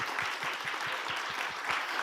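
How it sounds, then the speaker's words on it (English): Steady applause from an audience for panelists at a panel discussion, a dense wash of clapping throughout. "Perhaps one round of applause for all our panelists"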